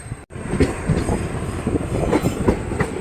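A train rolls into Mangalore Junction railway station, a loud continuous rumble with clattering wheels and faint squeals close by, no voices.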